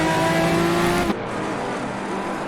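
A KTM X-Bow race car engine in the racing game Assetto Corsa screams at high revs, then cuts abruptly about halfway as the car passes and the note drops.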